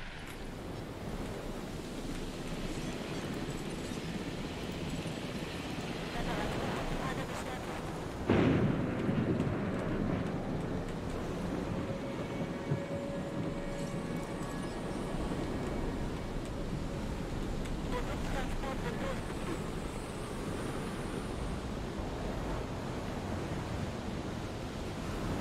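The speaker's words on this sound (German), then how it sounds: "So, ein Wirbelsturm oder einfach nur ein Sturm?" Storm in Jurassic World Evolution: a steady roar of wind and rain runs throughout, with a sharp thunder crack around the middle followed by continued rumbling wash, no talking.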